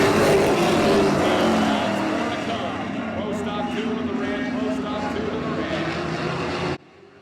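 Pro stock race cars lapping at Oyster Bed Speedway: a dense, continuous engine roar from a pack of cars at a distance, with a commentator talking over it, before the sound cuts away near the end.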